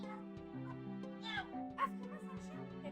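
A pet dog in the Roblox game Brookhaven gives a few short, sharp yipping barks over steady, looping background game music, with a voice faintly present.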